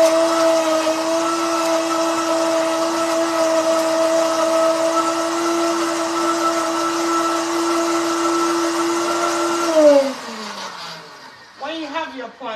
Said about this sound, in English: I'm going to blend this.